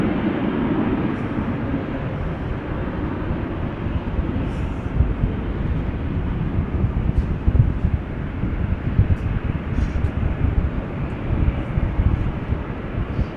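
A Singapore Airlines airliner moving at Amsterdam Schiphol Airport, a continuous low rumbling engine noise with gusty wind buffeting the microphone, steady in level throughout.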